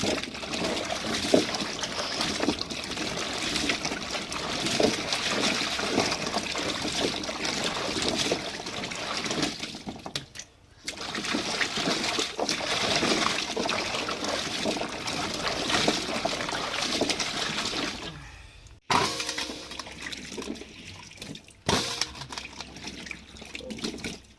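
Sweet potatoes being washed by hand in water to rinse off soil, giving a loud, steady splashing and sloshing that stops twice for brief pauses, with no speech.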